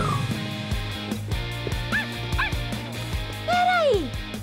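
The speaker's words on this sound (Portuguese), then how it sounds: "Tenho certeza que eu ouvi um latido." A dog in a cartoon gives a few high yips and whimpers, then a longer whining bark, against a busy animated soundtrack with music.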